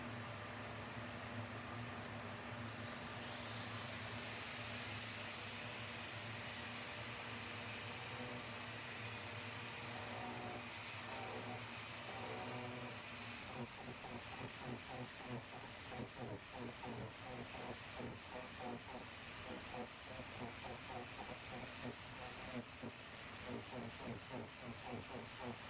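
An ArborTech TurboPlane cutter carving a cherry workpiece on a down-draft dust-collection bench gives a loud, steady whine and roar, then turns into a rougher, rhythmic chatter as it bites into the wood.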